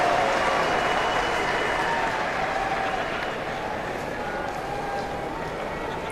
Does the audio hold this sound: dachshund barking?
no